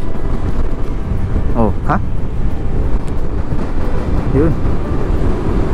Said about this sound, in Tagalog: Lakas ng hangin, kaya mahirap magpaan. Hirap mag-drone. Malakas yung hangin.